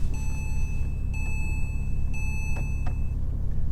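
Inside a 2006 Porsche Cayman, a chime beeps at a steady, repeating interval, clear against the low hum of the cabin.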